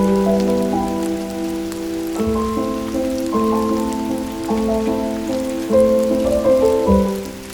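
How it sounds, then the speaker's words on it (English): Steady rain patters on a surface as a soft, even wash, under sustained melodic tones that change notes every second or so throughout. "listen to the rain"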